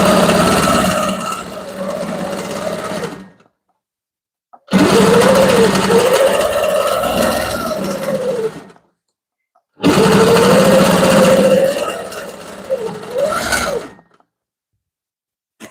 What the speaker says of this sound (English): this one I am going to take the time and stitch these ditches